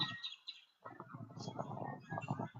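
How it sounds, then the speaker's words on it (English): Small birds that look like canaries chirp in a cage: a few thin, high tweets, then softer calls mixed with low background noise nearby. "I'm walking toward the little canary birds over here."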